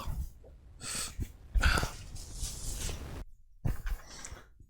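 Close, loud nose breathing and sniffing right into the microphone, several bursts of airy exhalation separated by short silent gaps.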